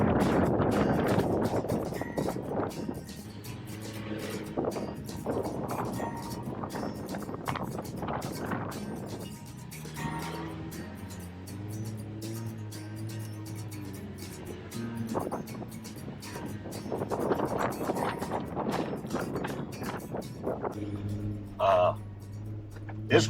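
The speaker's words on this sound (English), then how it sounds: "it is really windy" Strong wind on an off-road trail roars continuously into the microphone as a loud, gusty rumble with a vehicle engine droning underneath and occasional voices.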